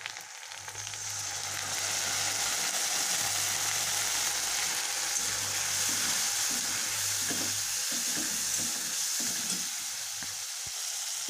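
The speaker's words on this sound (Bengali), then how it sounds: "মশলাটা ভালো মতন নেড়েচেড়ে কষিয়ে নিচ্ছি।" Ground spices, including turmeric, Kashmiri chili powder and salt, sizzle steadily in hot oil while a spoon scrapes and stirs the pan in repeated strokes, close and continuous with no talking.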